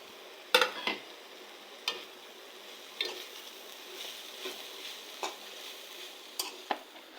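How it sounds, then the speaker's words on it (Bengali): Meat and vegetables are stirred together in a pan, with a soft background sizzle and scattered sharp scrapes and clinks of a spatula at irregular intervals. "ভালোভাবে নেড়ে চেড়ে মাংসগুলো সবজির সাথে মিশিয়ে নিব"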